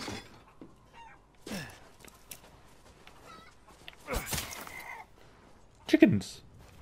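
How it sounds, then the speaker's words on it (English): Chickens cluck in Resident Evil Village, with short, fairly faint calls scattered across the scene and a louder squawk near the end, alongside other game sounds. "Chickens!"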